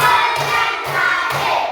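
A classroom group claps hands in a steady rhythm, several short bright bursts about half a second apart, close and fairly loud.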